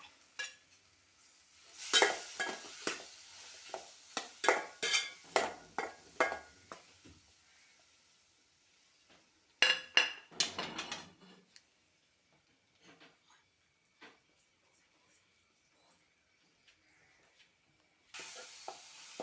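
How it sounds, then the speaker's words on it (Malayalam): Chopped ripe plantain softens in ghee in a pan, with close clusters of sizzle and scraping stir strokes in bursts, then long quieter stretches of faint crackle and a few clinks. "ഇതൊന്ന് പതുക്കെ നെയ്യിൽ വാട്ടിയെടുക്കുക."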